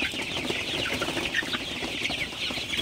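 Sonali super hybrid chickens cluck nonstop in a farm shed at night, a dense overlapping chorus of close, moderately loud calls from many birds.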